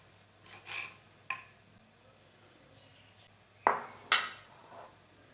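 A knife chops through fresh mint sprigs for a pudina dhaniya chutney, giving a few sparse, close thuds and scrapes on a cutting board, with two sharper knocks near the end.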